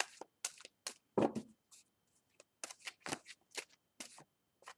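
A deck of cards being riffle-shuffled in several quick bursts of crisp, fluttering clicks, close and fairly loud, with short pauses between shuffles.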